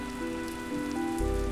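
Steady rain falls on a surface outdoors, a close and continuous patter with no voices.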